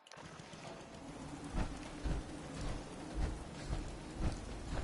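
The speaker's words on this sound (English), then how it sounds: "Hope this rain lets up soon." Steady rain patters and hisses throughout in the video game Fallout 4, with occasional low rumbles and thuds underneath; no voices.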